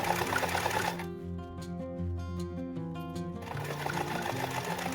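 A sewing machine stitches a reinforced seam through several layers of fabric at a long stitch length. It gives a rapid, steady mechanical whir with a brief slower stretch in the middle, close and clear with no talking.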